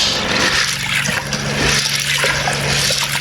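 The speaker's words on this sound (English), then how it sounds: "So I poured it inside water here, and I'm going to wash" Popcorn kernels, a 2 kg bag of low-fat gluten-free popcorn, being washed in water, giving a steady close sloshing and trickling of liquid that runs the whole time with no talking.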